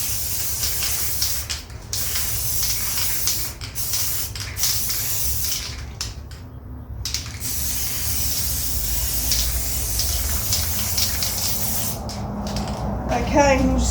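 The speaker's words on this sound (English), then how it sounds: "That also involves spray paint." An aerosol can sprays paint onto half bricks in long, loud hissing bursts broken by short pauses, with a rattling shake of the can near the end.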